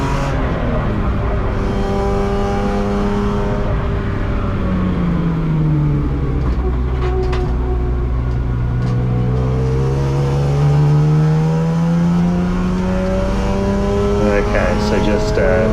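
A BMW race car on a qualifying lap at Hampton Downs, its engine droning loud and close with rising and falling pitch through gear changes, a steady in-car roar throughout.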